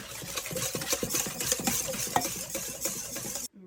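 Vegetable oil whisked into an egg and sugar mixture for a chocolate raspberry cake, a quick, rhythmic run of soft clicking strokes against the bowl that stops abruptly at the end.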